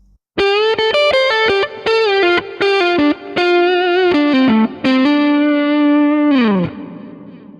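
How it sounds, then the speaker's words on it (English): A heavily distorted electric guitar through a Kemper Profiler plays a choppy, rhythmic riff with reverb and delay, ending on a sustained note that slides down and fades. "The second part is a distorted sound with reverb and delay."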